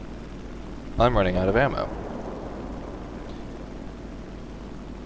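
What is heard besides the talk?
aircraft engine in the video game War Thunder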